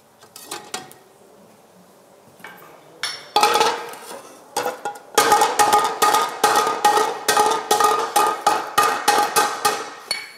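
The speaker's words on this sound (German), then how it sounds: "Mit jedem Durchgang wird das Material fester, verdichtet durch die Hammerschläge." Hammer blows ring out as an iron frying pan is forged, sharp metallic strikes, sparse at first, then a fast steady run of loud, evenly spaced hits.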